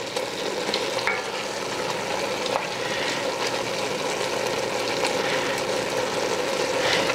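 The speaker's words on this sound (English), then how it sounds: "I'm just gonna mash this with my spoon, just like this" A spoon stirs and mashes melting keto taco soup ingredients in a pot, giving a steady close wet churning with a faint sizzle beneath, continuous and even throughout with no talking.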